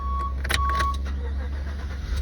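A car engine cranks and starts inside the vehicle, a short electronic beep tone sounding alongside, followed by a steady low idle rumble, close and moderately loud.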